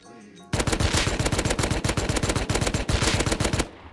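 Rapid automatic gunfire from a gun in the video game Rust, a sustained burst of closely spaced loud shots lasting about three seconds before stopping abruptly, with no talk over it.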